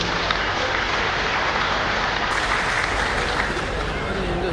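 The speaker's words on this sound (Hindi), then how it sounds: "एक बार तालियां बजाकर अभिनंदन कर दीजिए।" An audience at a train launch ceremony in Jaipur gives a sustained round of dense, even applause at steady loudness throughout.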